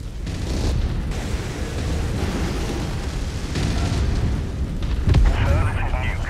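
A nuke detonates in a video game as a loud, rolling explosion with sustained rumbling blasts and a sharp boom near the end, under game voice chatter.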